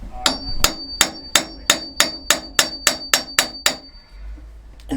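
A hammer drives a cold chisel against a propeller shaft packing gland nut on a boat, giving twelve sharp, evenly spaced metallic strikes at close range before stopping.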